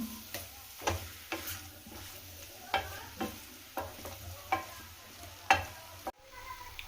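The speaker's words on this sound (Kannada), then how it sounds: "ಕೊತ್ತಂಬರಿ ಸೊಪ್ಪು ಹಾಕಿ ಮಿಕ್ಸ್ ಮಾಡ್ಕೊಳ್ತೀನಿ" Raw banana stir-fry (balekai palya) being stirred in a pan after coriander leaves go in: a steady run of sharp spatula scrapes and taps roughly every half second over a faint sizzle, close and clear with no talk.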